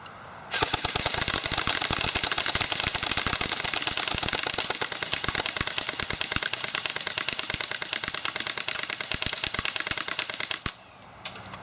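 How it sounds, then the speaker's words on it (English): Two BB guns firing full auto at the same time into a homemade riot shield, a dense, loud, continuous rattle of rapid clicking impacts lasting about ten seconds before stopping abruptly. "we're just going to see how well it can withstand against full auto from both of these guns at the same time"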